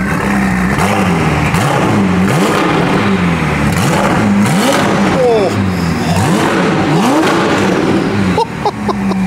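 A Ferrari 488 engine revs repeatedly at close range in a supercar bunker, rising and falling in loud, sharp bursts, with voices and exclamations around it.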